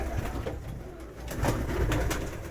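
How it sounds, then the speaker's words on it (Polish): Pigeons in a loft give soft, low cooing calls that repeat and overlap steadily over the whole stretch, close and fairly quiet, with no voices. "Tu są fajne gołąbki."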